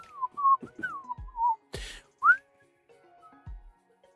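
A person whistles a short wavering melody up close, several sliding notes in quick succession, with a few soft knocks and a brief breathy burst between phrases.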